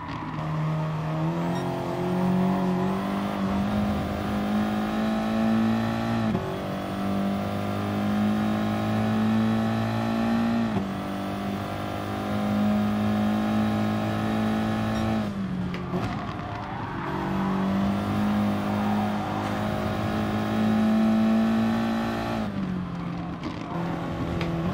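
A Ford Mustang race car in GT Sport drones at high revs, its engine pitch climbing through gears and dropping at shifts in a repeating pattern, with a brief tire squeal partway through.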